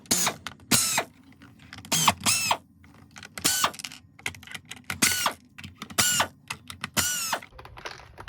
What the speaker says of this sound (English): we're going to remove 6 Phillips head screws out of the bottom here